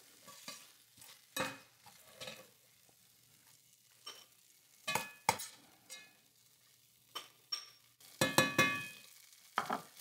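Browned, glossy onions scooped out of a sizzling pan, a faint frying hiss under repeated scraping and stirring strokes from a utensil, with occasional clinks, nearby, with no talking.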